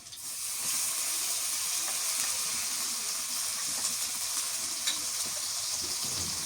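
Onion paste frying in a pan while cooking mirka fish with cauliflower, a steady bright sizzle and hiss throughout with faint crackles, no speech.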